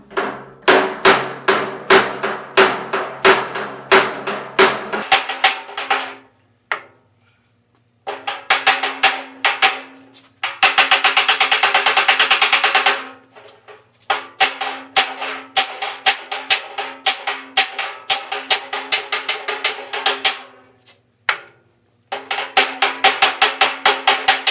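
Hammer blows on sheet steel while shaping the rear fender of a 1950 Chevy, loud rapid metallic strikes in fast bursts with short pauses, some stretches ringing sharper and denser than others.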